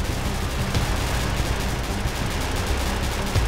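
Heavy, continuous gunfire in a World War II scenario in the video game Unturned, dense overlapping automatic bursts and shots forming a loud, unbroken battle din.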